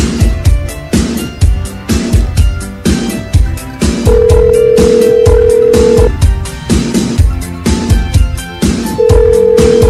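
Telephone call being dialed: a series of loud, evenly spaced rhythmic tones and beeps, interrupted twice by a long steady ringback tone, close and alone without talk.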